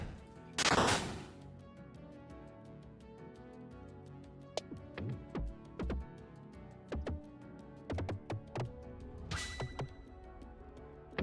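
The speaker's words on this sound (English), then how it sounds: "Explosions." Explosions in a video game go off as two big booming bursts separated by a series of shorter thuds and sharp ticks, fairly loud with nobody talking over them.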